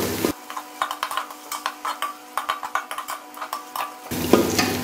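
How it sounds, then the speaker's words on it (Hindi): A spoon stirring ginger garlic paste into frying onions in a pan, giving rhythmic scraping strokes over a soft sizzle, close and steady, with no talk. "अब हम इसके अंदर जो है साथ ही अपना थोड़ा सा अदरक लहसुन की जो 1 चम्मच पेस्ट है वो शामिल कर देंगे।"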